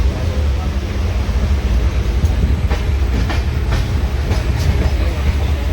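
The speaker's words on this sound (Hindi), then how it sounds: "ज़बरदस्त स्पीड से ट्रेन चल रही है।" The Jhelum Express runs at high speed, its coach filled with a steady loud rumble and rhythmic clickety-clack of wheels on rail joints, heard from inside the carriage.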